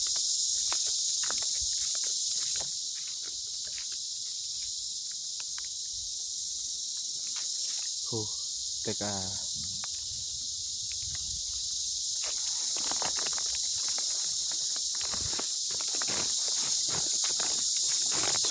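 Cicadas drone in a forest on a morning bamboo-shoot foraging trip, a constant high shrill buzz over the whole stretch, with brief speech and scattered rustling footsteps underneath.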